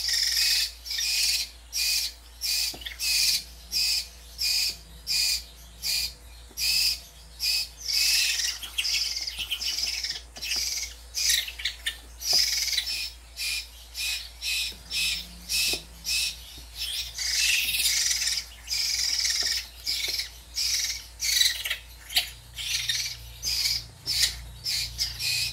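Crows at feeding time caw repeatedly in a fast, rhythmic series of harsh calls, close and loud, with brief gaps between bursts over a low steady background hum.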